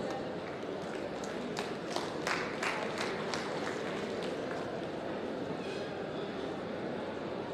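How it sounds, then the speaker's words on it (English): A hall audience at a 2018 general council meeting in Nashik claps for dignitaries on the dais, a dense, even round of applause heard from a distance, with no voices on top. "Please give them a big round of applause."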